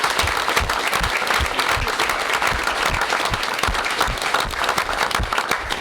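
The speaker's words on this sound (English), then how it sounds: "I'd also like to give an extra round of applause to our law enforcement and firefighters and EMS who are here." A crowd at a township council meeting on New Year's Day applauds police, firefighters and EMS, with steady, dense clapping filling the room throughout.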